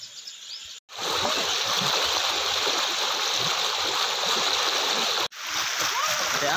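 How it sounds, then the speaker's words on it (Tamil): Loud, steady rush of water pouring from a dam near Jamunamarathur, Tiruvannamalai district, a continuous broadband roar that cuts out abruptly twice before resuming. "இந்த குப்பனத்தவன் டேம்லேருந்து வரக்கூடிய தண்ணி இது செம்மையாக இருக்குது."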